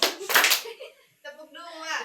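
A group of teenagers in a guidance session claps once on command, a short burst of many hands near the start, followed by a teacher talking.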